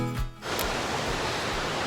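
Bhagsunag Falls in McLeod Ganj roars with a steady, dense rush of falling water, heard fairly close after a brief muffled moment at the start.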